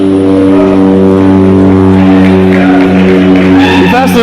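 A jet aircraft passes at an airfield during a car speed run, a loud sustained droning roar with strong engine tones that holds steady, with crowd noise and commotion rising near the end.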